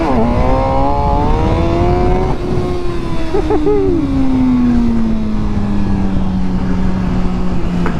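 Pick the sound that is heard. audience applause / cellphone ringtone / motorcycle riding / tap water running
motorcycle riding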